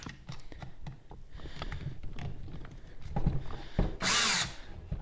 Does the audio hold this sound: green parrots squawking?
no